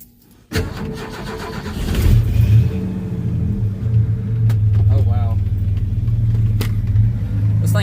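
A pickup truck's engine cranks after a brief quiet, then catches with a sudden loud start and rough low rumble that barely keeps running. It revs up and settles into a steady idle while a voice briefly speaks.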